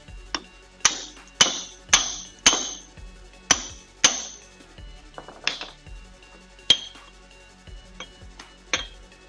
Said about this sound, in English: The book says take a chisel and a hammer